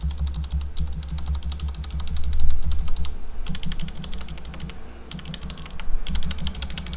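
Rapid typing on a Corsair Strafe keyboard with lubed Cherry MX Red switches fitted with O-rings, a dense stream of soft, muted clacks in quick bursts with short pauses between runs, heard close up.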